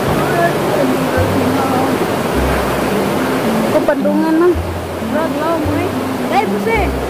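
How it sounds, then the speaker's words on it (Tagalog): Water rushes steadily through a creek in Bohol, Philippines, a constant close hiss that continues throughout, while voices talk and call over it. "Agos ng tubig"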